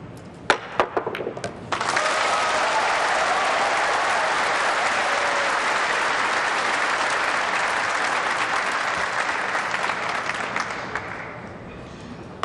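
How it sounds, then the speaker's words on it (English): A few sharp clacks come first, then the crowd at the 2004 World Pool Championship breaks into loud, sustained applause after a jump shot, staying steady for about ten seconds before tapering off. "There's nothing like a good jump shot to get this crowd going"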